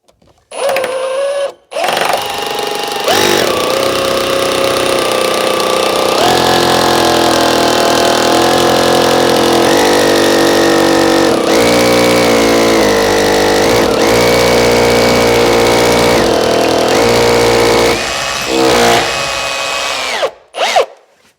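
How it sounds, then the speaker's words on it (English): A power drill with a 6mm bit whines loudly and steadily for a long stretch through a pilot hole while fitting a staircase, its pitch shifting slightly under load, starting and stopping briefly at each end. "I'm using a 6mm drill through my pilot hole, obviously."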